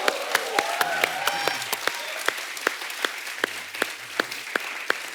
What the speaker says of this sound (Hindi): तो देखिए दूर तक गई हुई सब कितनी तालियां बजा रहे हैं आपके लिए